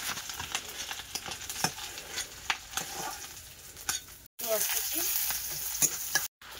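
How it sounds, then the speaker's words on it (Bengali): Onion frying in a pan with panch phoron and coriander leaves, heard as a close crackling sizzle broken by scraping stirs, with two brief silent gaps and louder frying near the end. "পাঁচ ফোড়ন, এই যে পেঁয়াজের সাথে এবার কিন্তু ধনেপাতাটাও কষাই করব।"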